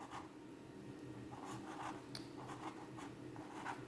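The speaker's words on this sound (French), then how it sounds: "J'écris à l'envers, je suis désolée." A pen scratches faintly across paper in short, close strokes over a low room hum, with no talking.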